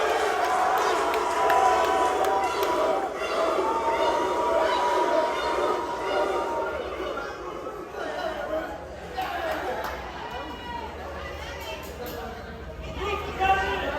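A wrestling crowd at a brewery show cheers and chatters for the senior referee, a busy roar of voices and shouts that swells and dips, with a commentator talking over it.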